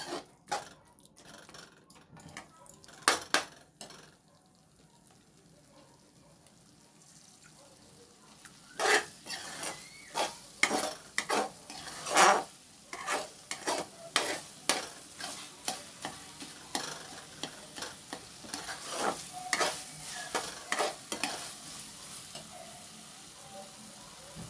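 Masala for an omelette curry frying in a pan and being stirred with a spoon: a low sizzle underneath, then from midway a rapid, irregular series of sharp scrapes and clacks against the pan, close and fairly loud.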